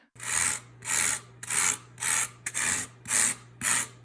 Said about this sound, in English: the unholy scratching sound that the XPS will make with this fork